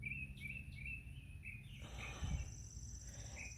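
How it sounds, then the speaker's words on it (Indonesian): Birds in a house yard on a cold spring day sing in repeated short chirping phrases over a steady background hiss, with insect-like buzzing also present. "burung-burung di halaman rumah ini banyak. Dong menyanyi terus."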